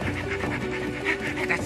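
A dog pants rapidly in a cartoon scene, quick rhythmic breaths repeating close up and fairly loud, with a faint tonal hum running underneath.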